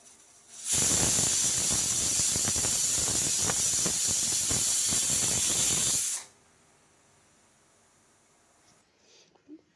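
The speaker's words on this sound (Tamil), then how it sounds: "விசில் அடித்து முடிச்சிருச்சு" A pressure cooker cooking sambar rice vents steam in a loud, continuous hissing whistle for about five seconds, then cuts off abruptly into near silence.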